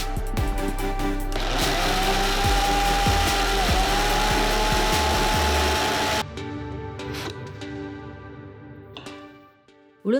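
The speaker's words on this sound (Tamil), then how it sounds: "மணித்தியாலம் ஊற வச்ச உளுந்தையும் வெந்தயத்தையும் மிக்சியில் நான் இப்போ அரைச்சி எடுக்கிறேன்" Electric mixer grinder grinding soaked urad dal and fenugreek seeds with a little water: a loud, steady motor whine with churning, rattling texture running for about six seconds, then slowing and winding down.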